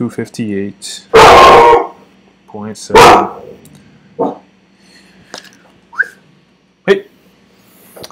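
A pet dog barks twice loudly and close by, with a few fainter yips in between. Someone talks steadily through the clip between the barks.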